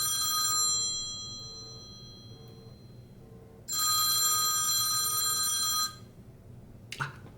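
A telephone rings for an incoming call from an unknown caller: two loud, steady electronic ring bursts separated by a quiet gap, followed by a brief click near the end, with no voices.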